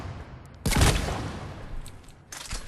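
Wraith shotgun in Mass Effect 3 fired from the hip at point blank range: one sharp loud blast that decays into a rumbling tail, then quieter clatter near the end.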